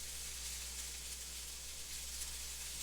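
Onions with red and yellow peppers sizzling in a pan, a steady, soft frying hiss that stays even and unbroken.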